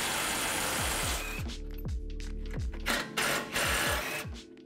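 Ford F-150 strut nuts being spun off with a power tool and an 18 mm deep well socket, a steady close mechanical whir for the first second or so, then several short bursts of rattling with brief pauses between them.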